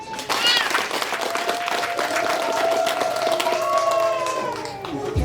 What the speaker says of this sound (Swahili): Makofi ya ngalau.